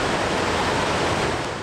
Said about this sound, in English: a torrent is pouring out.